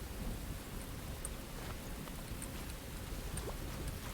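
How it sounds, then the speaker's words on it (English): Loud rain pours down in the video game Enshrouded, a dense, unbroken patter and hiss with a low rumbling undertone like distant thunder, steady throughout and free of speech. "That's how loud that rain is."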